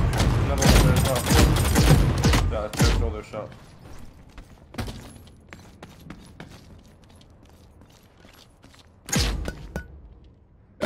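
Gunfire in the shooter game The Cycle, a dense volley of loud shots up front fading into softer mechanical rattles, then another sharp burst of shots near the end.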